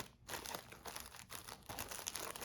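Thin plastic raincoats for an earthquake emergency kit crinkle and rustle continuously as they are handled close up, a steady crackling texture with no talk.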